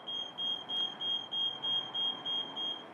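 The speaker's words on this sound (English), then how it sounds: "The machine will then go through a beep cycle." An Athena 850 machine runs its start-up beep cycle after the emergency stop is released. Evenly spaced, moderately loud electronic beeps repeat in a regular rhythm, about eight in a row, over a low background hum.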